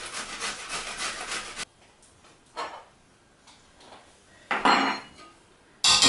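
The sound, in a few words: adding shredded vegetable into the pan with cooked turkey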